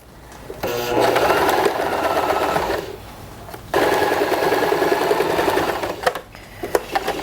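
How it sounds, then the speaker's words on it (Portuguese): A sewing machine stitching a waistband onto a double-sided bag, running in two long steady bursts with a brief pause between, then a few short stop-start stitches near the end. "eu agora vou costurar o cós na bolsa em toda a lateral."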